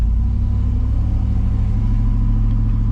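A V8 truck engine fitted with a Texas Speed cam runs with a loud, steady low rumble and a choppy idle pulse, close by and constant throughout.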